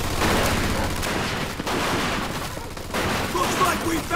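Machine gun fire rattles in a Mafia II firefight, a dense, loud, continuous burst of rapid shots with scattered gunfire and battle noise mixed in.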